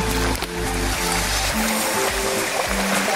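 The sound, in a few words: flowing stream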